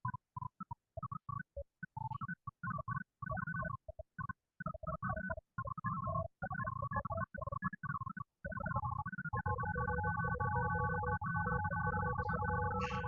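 Sonification of hydrogen bonds forming during protein folding: a dense stream of electronic beeping tones, choppy and stuttering at first, then settling into a steadier sustained layered tone, moderately quiet and with no talk.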